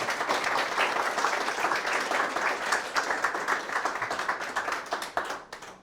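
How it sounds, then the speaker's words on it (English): An audience at a building design panel discussion gives the panelists a round of applause, dense steady clapping from many hands filling the room for several seconds before tapering off. "if you could just give them one more round of claps"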